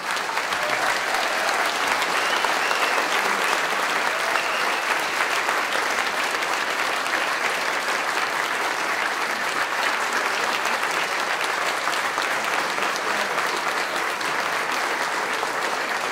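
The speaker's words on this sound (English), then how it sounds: "You're clapping so much." Long, sustained audience applause following a talk, many hands clapping in a thick, even roar that holds steady at full strength for the whole stretch.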